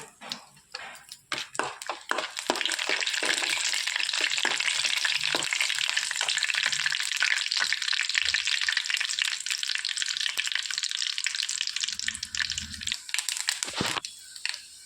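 Whole spices (bay leaf, cinnamon, marathi moggu, cardamom and cloves) fry in hot oil as a tempering for chicken soup, a loud, steady, crackling sizzle that starts after a couple of seconds of stirring and clatter and carries on close up, with no talking.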